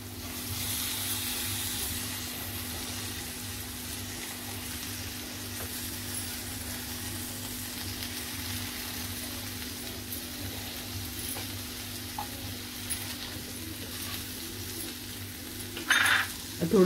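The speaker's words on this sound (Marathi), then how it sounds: "आता आपण भरलेली वांगे याच्यामध्ये टाकायचे आहेत." Stuffed brinjals fry in a spicy masala in a pan, giving a steady, even sizzle that runs unbroken throughout, with a brief clatter near the end.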